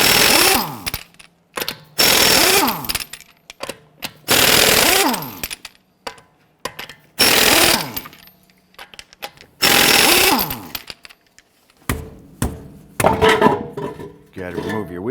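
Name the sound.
loosening and removing lug nuts on a Honda Pilot wheel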